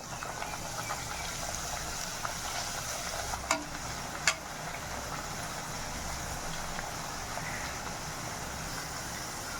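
Cassava chips frying in hot oil, a steady broadband sizzle with a couple of sharp pops, close and continuous, no talking.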